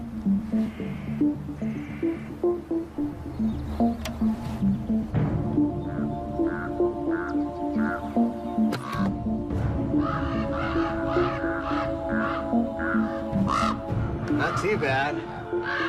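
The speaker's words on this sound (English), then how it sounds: "you can hear Mama and Daddy Raven are not very happy" A pair of ravens caw repeatedly near their nest with chicks, harsh calls coming in bursts close by while someone speaks briefly.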